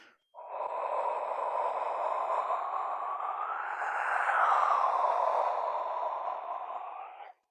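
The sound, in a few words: indigenous whistle blown to growl like a jaguar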